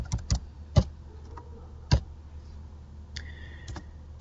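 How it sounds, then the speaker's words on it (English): Typing on a computer keyboard: a few sparse, sharp key clicks at irregular intervals, close and fairly crisp against a quiet background, with a short burst of lighter taps near the end. "So let me type some text."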